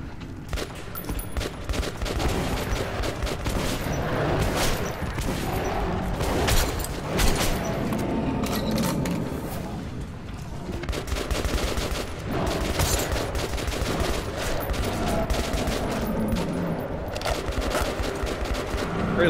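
Heavy sustained gunfire in the Metro 2033 video game, overlapping bursts and single shots rattling almost without pause, loud and close amid a dense, chaotic battle din.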